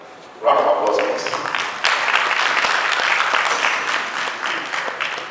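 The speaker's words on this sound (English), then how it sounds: "Round of applause, please." Applause from a conference audience erupts after a brief quiet moment as a speaker is welcomed at a health economics gathering, dense clapping that swells, holds steady, then slowly tapers, with a voice briefly heard.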